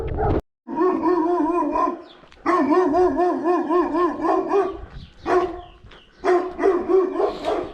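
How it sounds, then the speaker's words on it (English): A dog on a steep wooded track barking loudly and close by at a passing runner, delivering bursts of harsh, repeated barks with short gaps between them. "greeted by the customary dog."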